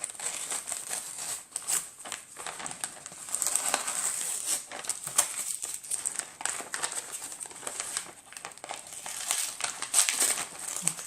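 Kraft wrapping paper with small blue dots being crumpled and handled while a parcel is unwrapped, close-up crinkling and rustling in bursts with brief pauses, no talk.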